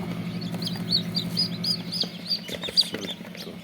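Original tiger-breed chicks chirp in a cluster of short, high cheeps over a low steady hum, close by and with no voices.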